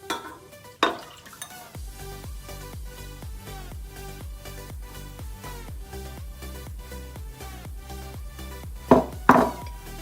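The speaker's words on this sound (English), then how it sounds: "I'm going to mix this until it gets thoroughly together and creams" A stand mixer with a paddle beats a whole stick of melted butter in a bowl, producing a steady rhythmic churning thump with a brief louder clatter near the end.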